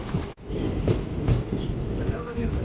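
A diesel train rumbles steadily along the tracks at about 110 km/h, a loud continuous roar with faint rhythmic clatter and a brief dropout near the start.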